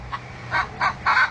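Chickens cluck inside a backyard coop in several short bursts. The calls are fairly close and sound over a low, steady background hum.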